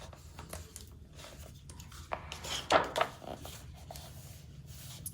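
Paper cut for a tea-party themed journal spread, with a short crisp burst of snipping and rustling midway through amid faint handling noises and no speech.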